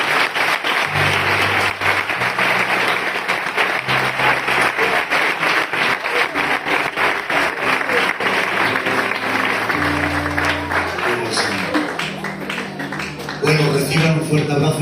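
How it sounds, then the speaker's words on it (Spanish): Congregation in a church applauding together, a loud sustained clapping texture running under music with bass notes, continuing steadily before thinning out near the end. "Pueden dar un aplauso fuerte al Señor."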